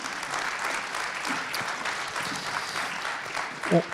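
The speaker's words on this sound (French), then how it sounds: "Sous vos applaudissements, mesdames, messieurs." A conference hall audience applauds at the closing plenary of an African diaspora entrepreneurs' forum, producing a dense, even wash of clapping that holds steady for about four seconds, with a brief low bump near the end.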